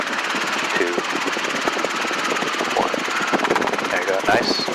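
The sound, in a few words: Robinson R22 helicopter in autorotation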